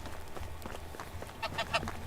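Geese in the video game Medieval Dynasty give a few soft honks near the end, faint under a low steady game ambience.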